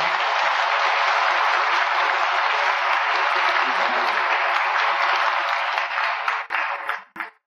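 Auditorium audience at a live Brazilian TV music program applauds steadily in a dense, loud wash of clapping that holds for several seconds, then thins and breaks off toward the end.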